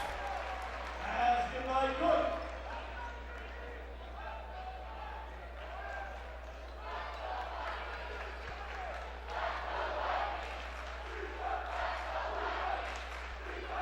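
A loud sellout crowd roars at a high school basketball game, a steady noisy din with swells of cheering, heard fairly distantly in a gym.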